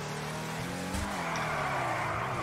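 Engine of a Drift Tampa car in GTA Online revving steadily with a rough tone as the car drifts, a brief tyre skid swelling near the middle, loud and close throughout.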